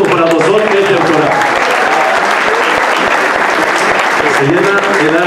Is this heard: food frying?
no